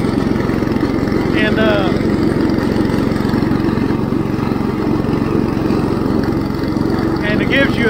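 An IH Cub Cadet 149 lawn tractor mows barnyard grass with a steady, droning engine and blade hum that runs loud and continuous throughout, with a few faint chirps poking through.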